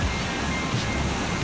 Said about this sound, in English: Oh my God, look at this waterfall.